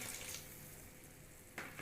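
Water, about two glasses' worth, is poured into a cooking pot of rice with potatoes, giving a faint, steady splashing trickle with no talking.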